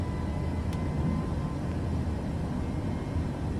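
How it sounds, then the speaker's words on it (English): An airliner's engines held at full throttle during a go-around in Microsoft Flight Simulator 2024, a steady, fairly loud low roar and rumble with a faint whine, no voices. "Right, we're going around, guys. Full throttle."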